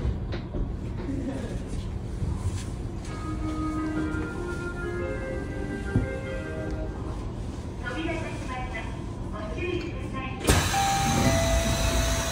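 A Chiba suspended monorail car pulls away, its low rumble and mechanical hum building steadily over about twelve seconds, with a faint whine rising and a sharp louder burst of noise near the end; an announcement voice is heard.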